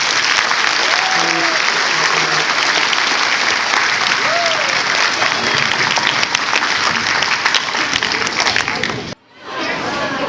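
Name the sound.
school audience applause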